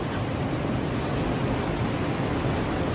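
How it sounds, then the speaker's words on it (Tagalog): Heavy rain pours over a flooded parking lot, a dense, loud, continuous hiss with no break. "Baha na dito ng daan. Grabing ulan."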